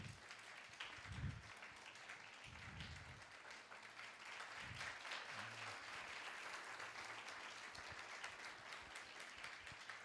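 A congregation at a church service with Pastor Shalom Massey applauds for Jesus Christ, a sustained wash of clapping heard from a distance, with a few low thumps underneath.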